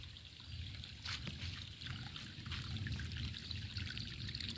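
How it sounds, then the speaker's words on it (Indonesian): Water from the hills flows steadily through a channel toward rice fields, a continuous, fairly faint trickling and rushing heard alone at moderate distance. "ini airnya masih mengalir dengan lancar"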